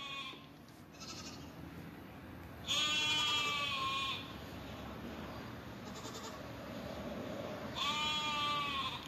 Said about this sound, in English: I don't think those two sheep are happy down over here and not in there.